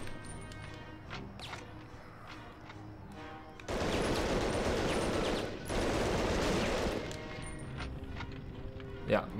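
Loud bursts of gunfire erupt in Medal of Honor: Underground, a dense clattering barrage lasting several seconds after quieter game sounds, with people talking around it.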